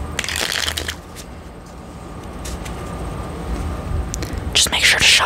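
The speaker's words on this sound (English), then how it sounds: "Just make sure to shuffle really well before you start your next round" A deck of playing cards is shuffled for a game of solitaire in a quiet, close-up setting. Crisp riffling bursts come at the start and again at the end, with softer card handling and rustling between them.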